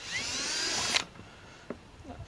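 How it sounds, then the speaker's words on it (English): A power drill whines at high speed for about a second, then cuts off, followed by a few faint clicks and taps. "I've got one more hole to drill right here"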